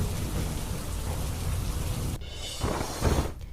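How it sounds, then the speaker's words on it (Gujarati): Heavy torrential rain pours down in Malpur, Gujarat, a dense, loud hiss that drops away after a couple of seconds and then returns with low rumbling surges. "માલપુર, મેઘરજ, મોરડુંગરી, ભીમપુર, તખતપુર, પહાડિયામાં ધોધમાર વરસાદ ખાબક્યો"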